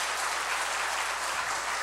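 Brief audience applause at a church gathering, a steady wash of hand claps at moderate distance, fairly faint and unbroken for under two seconds, with no speech.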